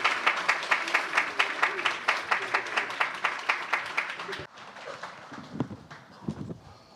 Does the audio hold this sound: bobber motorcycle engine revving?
no